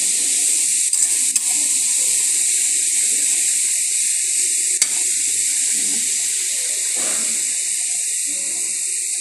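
Vegetable bhaji fries in a pan, a loud, steady sizzling hiss throughout with occasional faint scrapes as it is stirred.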